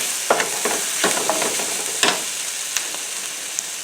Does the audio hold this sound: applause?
no